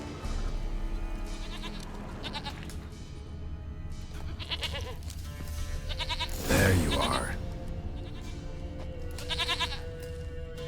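Goat bleating in The Witcher 3 video game, a few brief calls rising among ambient game sound and music, with a voice talking over it.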